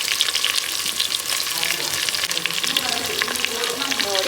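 Sliced onions frying in a pan for chicken biryani make a loud, continuous crackling sizzle, with a little stirring and faint voices in the background.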